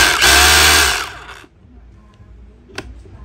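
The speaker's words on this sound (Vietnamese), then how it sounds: "Có 4 cấp độ, 4 cấp độ, cấp độ này khoan có búa." Milwaukee 2915-20 cordless drill running in hammer drill mode, a loud, dense rattling whir for about a second that winds down. It is followed by quieter handling clicks.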